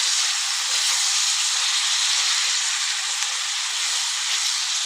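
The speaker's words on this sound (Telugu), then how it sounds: "ఇప్పుడు ఇవి కూడా మంచిగా ఇట్లా మనం ఆయిల్లో ఫ్రై చేసుకోవాలి." Tomatoes and tamarind frying in oil for a dondakaya (ivy gourd) chutney give a steady, loud hiss and sizzle that holds evenly throughout, with no talking.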